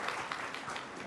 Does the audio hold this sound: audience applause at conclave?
yes